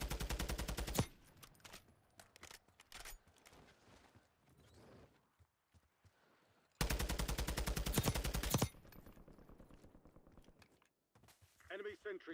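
Automatic gunfire in Warzone from an unmodified gun, fired in two loud sustained bursts and then a short third burst, with quieter game sounds between them.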